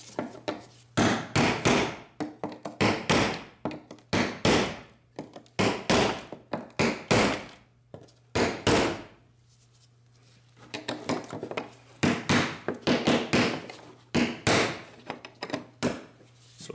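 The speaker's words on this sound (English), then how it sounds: "So now we're gonna undo this ring so we can remove the fuel pump assembly. We have to tap this counterclockwise." Hammer tapping the fuel pump lock ring counterclockwise on a Lincoln MKT, many rapid metallic taps in quick bursts separated by short pauses, close and fairly loud.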